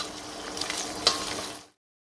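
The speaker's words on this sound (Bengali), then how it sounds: "ডিমটা ভালোভাবে নেড়ে নিব।" Egg being stirred and fried in a pan with browned onion and salt, a steady sizzle with a sharp scrape of the spatula partway through before it stops abruptly.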